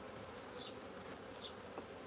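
Honeybees hum densely and steadily around an open hive box at a queen-rearing cell builder, a soft continuous buzz with a few individual bees passing close by.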